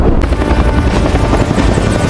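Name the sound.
helicopters flying in a film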